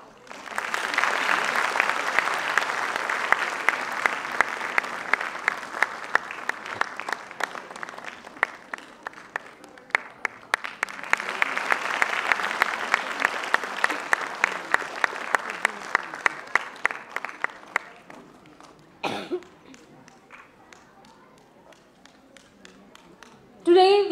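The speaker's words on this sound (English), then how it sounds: "Parents, continue clapping." Parents applaud at a convent school event in Bandra, producing a sustained crowd applause that swells, dips and rises again before fading, with scattered sharper claps and a brief voice near the end.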